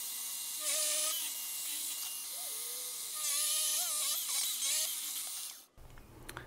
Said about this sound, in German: Dann kann ich auch gleich eine Nummer größer bohren.